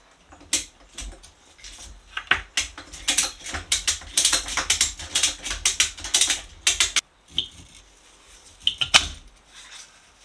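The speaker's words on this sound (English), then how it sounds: "hopefully when I ratchet this up, it will compress the spring sufficiently that I can get into the lock nut" Ratchet wrench being worked to compress a fork spring on a Yamaha V-Max 1200 motorcycle in a shed, giving rapid repeated metallic clicks in bursts with brief pauses, close and fairly loud, no talking.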